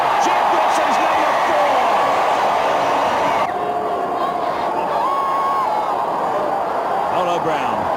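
A rugby stadium crowd roars and cheers through an All Blacks match in New Zealand, a dense, steady wall of sound that dips slightly midway, with a commentator talking over it.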